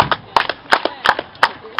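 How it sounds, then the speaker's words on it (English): At a live show, a crowd claps along in time, sharp evenly spaced hand claps in a steady rhythm, loud and close. "Everybody clap your hands."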